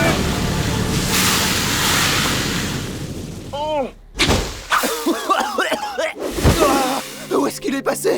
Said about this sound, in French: il y a toujours beaucoup de vent au bord de l'eau